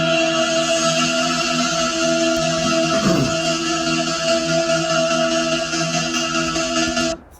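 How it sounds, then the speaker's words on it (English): Synth pad sample pitched up an octave, with an LFO switched on as it rings out to give a plucky feel, playing a steady sustained tone for about seven seconds, loud and alone, then cutting off abruptly. "we have an LFO being turned on as this sample rings out to give it more of a plucky feel"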